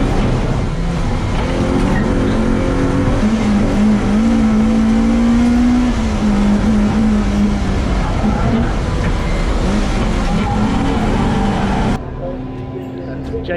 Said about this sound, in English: James Everard in his M3 has caught Andrew Neil.